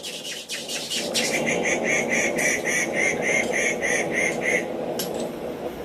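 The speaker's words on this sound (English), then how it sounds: "One of the birds making a cameo appearance." A bird inside a blacksmith's workshop calls in a quick, regular series of harsh quacking notes for several seconds over a steady low room hum.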